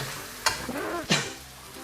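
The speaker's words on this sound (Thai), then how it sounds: "เราก็จะผัดไปเรื่อยๆนะครับ ผัดจนพริกแกงมันมีกลิ่นหอมเลยครับ" Thai curry paste being stir-fried with coconut milk in a pan, with a soft steady sizzle and two sharp scraping stirs of the utensil against the pan, close by.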